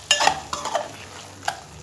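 Spinach curry with coriander powder and cilantro is stirred in a pan, a few brief scraping strokes and clinks of a spoon against metal over a soft background.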